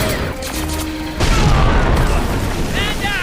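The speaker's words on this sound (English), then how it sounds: "All the subtle rocks and debris falling with the explosions is another great touch on the animation front." In a Star Wars: The Clone Wars animated battle, a heavy boom bursts out midway, followed by a rumbling, crackling spray of falling rocks and debris, with some earlier rustling noise before it.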